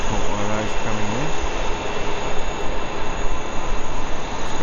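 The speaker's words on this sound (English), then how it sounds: "Of course, the big Emirates. Just caught one of those coming in." Emirates jet airliner coming in to land at Heathrow, watched from a hotel rooftop: a loud, steady broadband roar of engines that holds throughout, with a low droning hum beneath.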